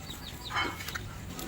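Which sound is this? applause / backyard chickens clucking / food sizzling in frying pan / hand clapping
backyard chickens clucking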